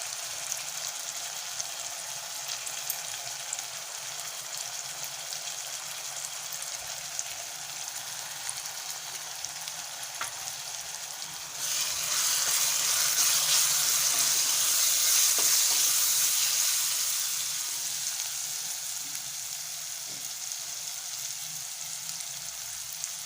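Turmeric and vegetables sizzle steadily in a hot oiled pan for a Bhogi mixed-vegetable dish, a continuous close frying hiss that swells louder and brighter partway through as if stirred, with no talking.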